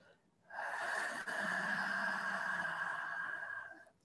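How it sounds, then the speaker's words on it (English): A slow, steady breath exhaled through a slightly constricted throat, a soft hissing, ocean-like rush much like a gentle snore, heard close and alone. It lasts about three seconds with one brief catch partway through. "by constricting it slightly, you can make a hissing or ocean type sound as you exhale"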